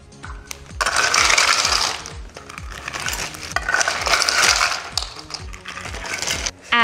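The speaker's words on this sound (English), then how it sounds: "Open up your Ziploc bag and you're gonna put in 2 cups of ice," Ice cubes clatter and rattle as two cups are poured into a Ziploc bag, a loud crunchy cascade in two bursts with scattered clinks between, no voices.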